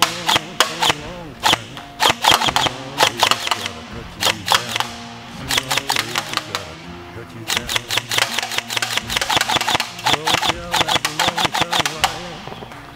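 Custom-built airsoft PTW rifle fed from a Systema magazine in a hollowed-out P-Mag, firing outdoors in rapid bursts of sharp close clicks and snaps, with short pauses between strings of shots.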